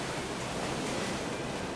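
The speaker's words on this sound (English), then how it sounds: "Now the tide turns again, as the waves overpower his beautiful new car." Ocean surf surges over a new car, a steady broadband wash of churning waves and foam filling the whole stretch without a break.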